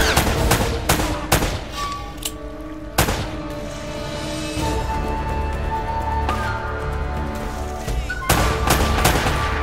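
Rapid bursts of gunfire from Uncharted: Drake's Fortune Remastered, sharp repeated shots clustered at the start and again near the end over a steady game soundtrack, loud and close.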